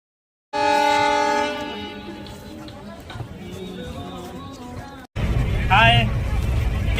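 A slow-moving train pulls in on a rail journey, its loud sustained horn blaring at the start before giving way to rumbling carriages and the clatter of wheels, with a voice and chatter heard near the end.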